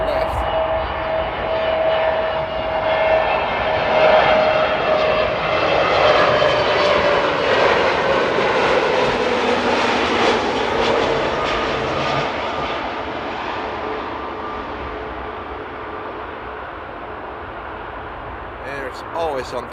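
Fixed-wing airliners on approach and touchdown at Amsterdam Airport, a loud sustained engine roar that swells and then slowly fades as the aircraft passes, with a person talking over it.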